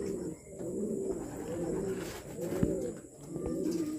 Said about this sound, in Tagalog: Doon no mga kalapatids yung nasa taas.